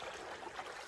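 A river on the GR20 trail in Corsica flows in a steady, close, broadband rush of water with no talk over it.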